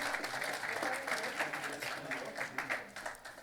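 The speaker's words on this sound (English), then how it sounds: "A big round of applause, please, everyone." A convention audience of insolvency professionals and registered valuers applauds a memento presentation, steady clapping heard faintly at a distance with some murmured voices underneath.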